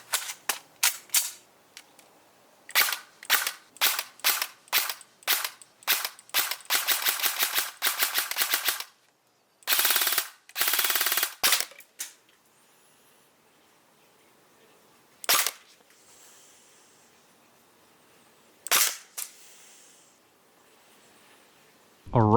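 An airsoft rifle fires sharp, snappy shots, first single and in quick bursts, then a rapid stream of automatic fire, followed by a few isolated shots spaced out against a quiet background.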